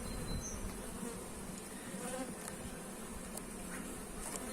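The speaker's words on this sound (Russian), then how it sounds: "Злючие сегодня пчелы." Honey bees buzz steadily around an opened hive in an apiary while brood frames are inspected, a dense, continuous drone close to the microphone, agitated and unbroken throughout.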